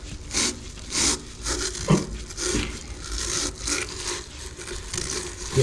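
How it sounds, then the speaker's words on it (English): A stiff brush scrubs hard inside a chemical-soaked drain, rough rhythmic rasping strokes repeating about once a second, close and fairly loud, with no talking. "then with your brush really get in there and just scrub away"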